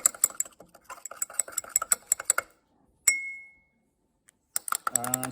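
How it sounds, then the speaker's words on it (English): A spoon stirs ammonium chloride crystals into water in a glass, giving quick, close clinking taps in a busy rhythm, then a single ringing chime and a pause before more scraping clinks. "And stir the ammonium chloride."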